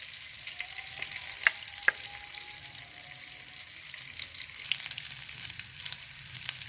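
Aloo tikki potato patties fry in a pan with a continuous soft sizzle, broken by a couple of sharp clinks of a utensil and occasional shuffling as they are turned.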